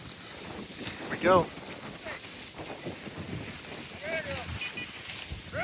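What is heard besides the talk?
wind blowing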